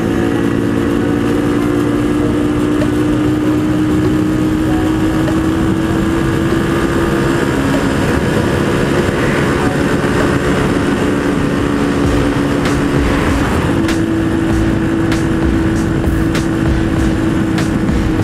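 A Traxx 50cc motorcycle engine drones steadily while riding on a road trip, a loud continuous buzzing hum with a slowly shifting pitch and wind rush, no speech.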